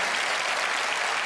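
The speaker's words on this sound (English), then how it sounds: "Give yourselves a big round of applause." Audience at a magic show breaks into dense, continuous applause, a full, even roar of clapping from a large crowd with no speech over it.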